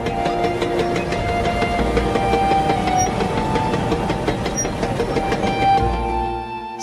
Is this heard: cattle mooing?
no